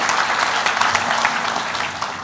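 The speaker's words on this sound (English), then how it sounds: "Let's give him a big round of applause." Dense, sustained applause from a large audience at the grand opening of the Choctaw Nation campus headquarters, with many hands clapping together at an even loudness throughout.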